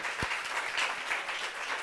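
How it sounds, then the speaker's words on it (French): Studio audience applause on a French talk show, a brief, even patter of many hands clapping at moderate loudness with one sharp thump near the start. "Vraiment, applaudissements encore pour elle, s'il vous plaît."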